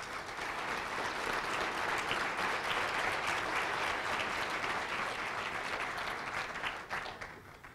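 An audience at a town hall on water planning in New Mexico breaks into dense, continuous applause, a broad wash of many hands clapping at even strength, heard from a moderate distance and fading slightly near the end.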